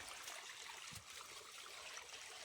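A natural mountain stream flows close by with a steady, broad rush and trickle of water, quiet and unbroken, with no voices.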